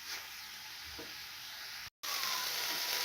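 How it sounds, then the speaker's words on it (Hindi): Onions frying in a pan for a chicken kachori make a steady, even sizzle that holds close and constant, broken by a brief cut near the middle. "प्याज को मैंने 1-2 मिनट के लिए फ्राई कर लिया।"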